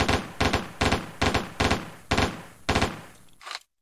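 A FAMAS F1 bullpup rifle fires in World of Guns, about eight rapid, close, loud shots in a quick uneven rhythm with brief gaps, ending abruptly in silence.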